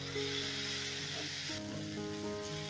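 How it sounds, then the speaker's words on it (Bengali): A paste of ginger and green chili fries in a pan, giving a steady close sizzle that runs unbroken through the whole stretch, with a faint tonal hum behind it. "এবারে আদার কাঁচা গন্ধটা না যাওয়া পর্যন্ত আমি একটু ভাজতে থাকবো।"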